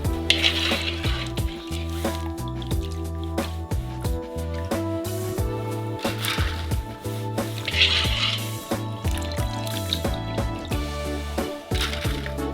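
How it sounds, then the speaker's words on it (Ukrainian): Chicken feet dipped into ice water: watery sloshing and light clinks continue for several seconds, with scattered splashes and drips nearby, moderately loud, and no one speaking. "Далі занурюємо в крижану воду."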